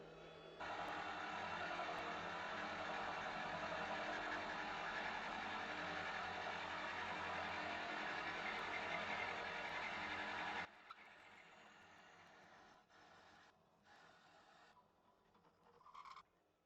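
A wood lathe drives an Axminster Evolution carbide cutter held in a Jacob's chuck to bore the central hole of a small natural-edge wooden bowl. A steady, loud whirring grind runs for about ten seconds, then cuts off, leaving faint clatter.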